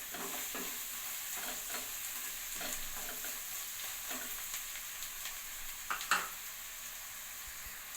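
Coriander and grated coconut being mixed into capsicum rice in a pan, a soft continuous sizzle under repeated quiet stirring scrapes, with a sharper clink of the utensil near the end and no voices.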